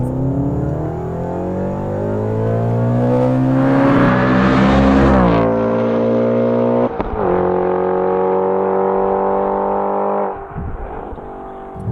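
A supercharged Audi RS4 B7 with a Milltek exhaust accelerates hard, its loud engine note climbing steadily in pitch with a brief break partway through, then pulling again close by with no talk.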